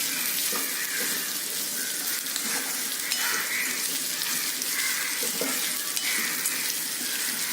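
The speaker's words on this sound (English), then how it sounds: "Saute this so it will become slightly soft." Orange peel sautéing in a pan for puli inji, a steady soft sizzle and hiss that runs continuously and evenly at close range without talking.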